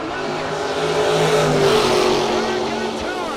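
Race cars at a no-box drag racing event, one of them an Oldsmobile, roar loudly and steadily down the strip while an announcer talks over the engine noise.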